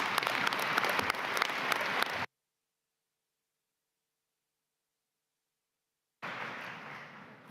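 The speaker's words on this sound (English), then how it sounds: "They definitely need a big round of applause" Applause for conference support staff at a closing plenary in Dubai. A dense burst of clapping fills the room for about two seconds and cuts off abruptly. After several seconds of total silence, it resumes and gradually fades.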